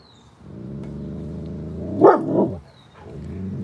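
Several dogs bark in short, loud bursts during a night walk, the sharpest outburst coming near the middle over a steady low background hum.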